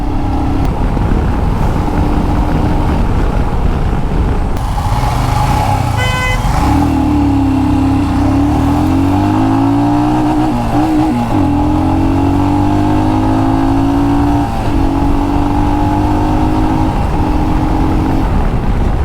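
A Royal Enfield Scram 411 motorcycle engine drones steadily in first gear, its pitch climbing and sagging with throttle over constant wind and road noise, with a brief horn-like tone near the start.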